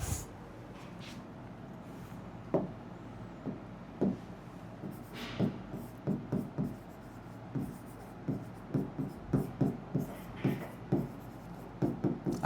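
A pen scratches across paper while a flow chart is written out, giving a run of short, close strokes in uneven rhythm that grows busier toward the end.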